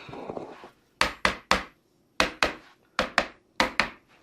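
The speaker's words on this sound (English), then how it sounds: "So I've got my little hammer and we'll just gently" A small hammer gently taps a part of a twin-track bow string bridge kit for a garden railway, giving nine crisp, close knocks in three groups of three with short pauses between.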